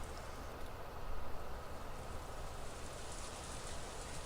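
Steady rain falls in a visual novel game scene, pouring over a garden in a dense, even hiss that stays constant throughout with no voices.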